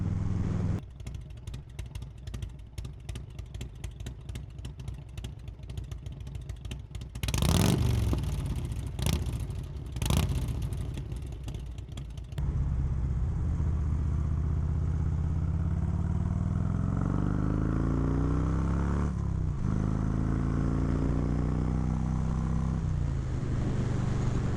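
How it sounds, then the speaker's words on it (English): A 1996 Harley-Davidson Road King with Shark Road mufflers idles steadily with a lumpy, rapid pulsing exhaust, briefly blipped and revved a couple of times midway before settling back into a continuous close, loud idle. "I don't think I've really gotten y'all a really good idle clip with these Shark Road Amazon mufflers on"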